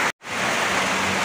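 Heavy rain pours down during flooding that has reached inside a house, a loud, dense, continuous hiss of water after a brief cut at the start, with no talking.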